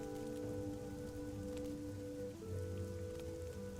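Steady rain falls in the video game Fall of Porcupine, a soft continuous patter with no talk over it and a faint low hum beneath.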